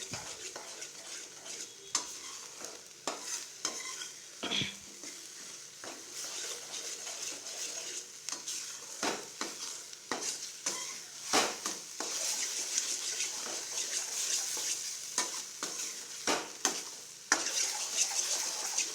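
A spatula stirs and scrapes ridge gourd and egg stir-fry around a pan, with soft sizzling underneath and repeated sharp clinks and scrapes against the metal.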